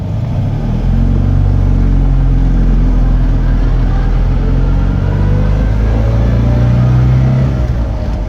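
A classic Fiat car without a synchromesh gearbox drones loudly and steadily from inside the cabin on a test drive, with a continuous low rumble and a slight rise in pitch.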